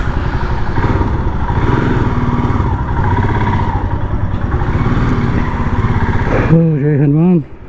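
A motorcycle readied for a Ladakh ride, its engine running with a steady rough rumble close by for several seconds before cutting out, after which a voice speaks briefly.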